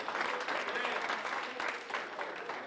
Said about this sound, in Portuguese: Dê uma salva de palmas assim, porque Deus é perfeito.